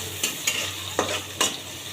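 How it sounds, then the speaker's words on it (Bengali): Onions sizzle steadily in a hot pan, with a few sharp scraping stirs breaking through the constant crackle; no voices. "একটু বাদামি কালার করে ভেজে নেব।"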